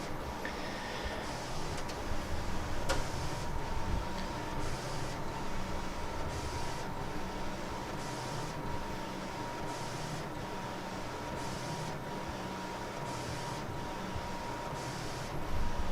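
An Epson 4880 large-format printer prints Centipede arcade side panels with a steady mechanical whir. The print head sweeps back and forth in regular, evenly spaced passes, heard close and moderately quiet with no talking.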